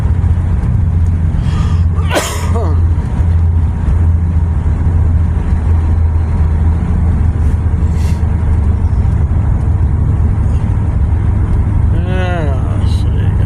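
An old farm truck with a 3-speed transmission drives along with a loud, steady low engine drone and road rumble from inside the cab, while someone talks over it.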